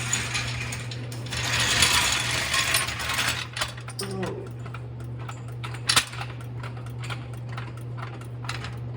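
Under an LS-swapped Chevy S10 during a TH400-to-Powerglide transmission swap, a ratchet or floor jack gives rapid bursts of close, crisp mechanical clicking over a constant low hum, with scattered knocks.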